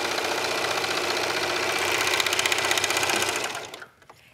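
A serger sewing machine runs at a fast, steady whir while stitching, loud and close, then slows and stops near the end.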